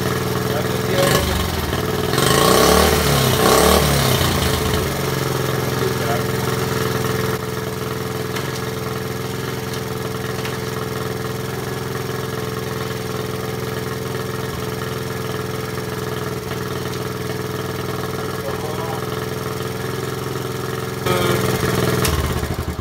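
A Dax ST 70 motorcycle engine runs in gear after a clutch job, a steady mid-pitched hum with a clattering burst near the start and a brief rise near the end.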